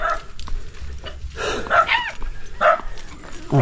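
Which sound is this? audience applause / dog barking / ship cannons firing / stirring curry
dog barking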